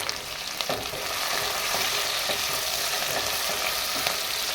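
Tomatoes and chopped green chillies fry with browned onions for an anda masala, a dense, continuous loud sizzle that swells after the first second, with occasional stirring scrapes.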